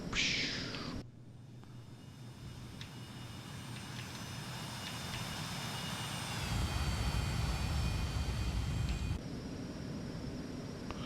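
A Citation Mustang jet climbing out in a flight simulator gives a steady, loud engine roar with a whining tone that shifts partway through and a rising low rumble, with no speech.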